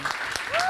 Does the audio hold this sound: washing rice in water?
no